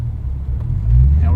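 A Dodge Challenger with a 6.4 liter V8 and heavy manual clutch pulling away from a stop, deep low engine rumble swelling louder as it moves off, heard from inside the cabin.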